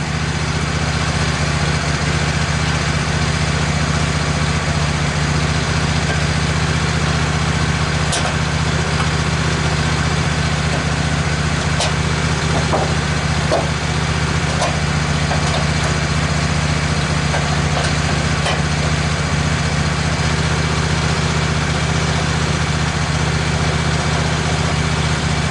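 Sawmill engine running steadily while cutting a maple board, a continuous loud mechanical drone with a few faint clicks and knocks scattered through the middle.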